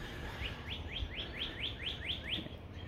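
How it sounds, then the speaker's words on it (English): A bird repeats a rising whistled note about eight times in a steady rhythm, heard over a constant outdoor hiss of background noise, at an ocean-view house in Hawaii. "Listen to the birds."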